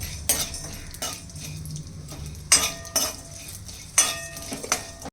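Whole cloves roasting in a pan with a little oil for homemade Goan garam masala, heard as a few sharp metallic clinks of a spoon against the pan over a faint low sizzle, with no voices.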